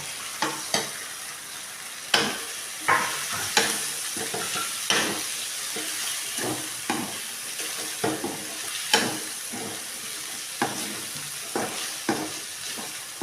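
Chicken stir-fried in a pan for hotel-style chicken fried rice, with repeated sharp scrapes and clanks of the stirring utensil over a steady close sizzle, with no talk.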